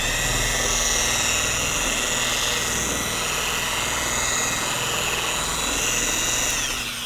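A TORQ X polisher runs at speed setting 1 to spread polish over car paint, giving a steady, loud motor hum with a high whine that holds even throughout.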